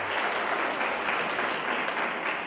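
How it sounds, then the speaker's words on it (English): An audience at a public hearing on a veld and forest fire amendment bill gives a talk a round of applause, heard as a continuous, even wash of many hands clapping throughout, moderately loud with no speech. "must be given a round of applause."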